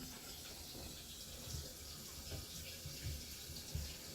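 Geberit toilet cistern refilling with water after a flush mechanism repair, a continuous faint hiss and trickle of water flowing in, steady and quiet throughout.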